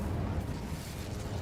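An Incendio fire spell in Hogwarts Legacy erupts as a sustained, roaring low whoosh of flame, thick and continuous, loud and unaccompanied by voices.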